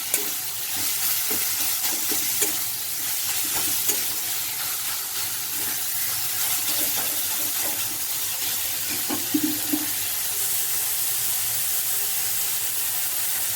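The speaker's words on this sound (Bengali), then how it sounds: "আমি কড়াইতে ভালোভাবে একটু নাড়িয়ে নেব যাতে সেই গন্ধটা চলে যায়" Chicken pieces stirred in a kadai over heat, a continuous sizzle with scattered scraping and clinking of the spatula against the pan, steady and moderately loud, with no talking.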